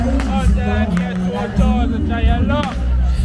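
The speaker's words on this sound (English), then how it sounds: "let's just go through the crowd a bit, make you see how big this event is and things" Large outdoor crowd at the Kingston waterfront show in downtown Jamaica, a dense, loud hubbub of many voices close around, with someone speaking near over the babble.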